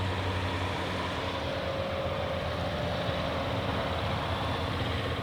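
Engine of a 2015 Chevrolet Colorado Crew Cab LT idles steadily, a continuous low hum with a faint whine, close and even in level throughout, no talking.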